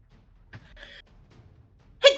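Single sharp sneeze near the end, brief and close, following quiet breathy vocal sounds, with people gathered around a tabletop roleplaying game.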